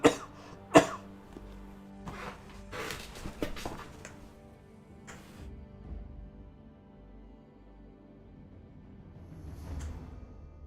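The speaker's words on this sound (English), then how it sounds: "we'll get a bit of a coughing fit" A sharp cough bursts out near the start, followed by a second harsh cough and a few fainter throat-clearing sounds and breathy bits that thin out into quiet.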